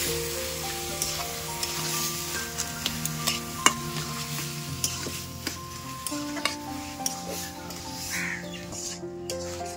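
Taro leaves and chickpeas cook in a pan with a faint, continuous sizzle, broken by light clinks and scrapes as they are stirred at a steady pace.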